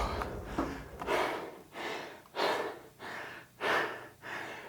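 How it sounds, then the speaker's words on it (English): A person breathes heavily after finishing a rowing machine workout, with loud, close, rhythmic gasping breaths roughly once a second, each a rushing exhale and inhale with no talk. "Hopefully you're breathing just as heavy as me."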